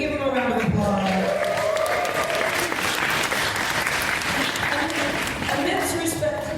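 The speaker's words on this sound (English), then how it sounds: "Can we give him a round of applause?" A crowd at a live Star Wars press conference applauds Anthony Daniels, loud sustained clapping mixed with some cheering, with voices audible through it.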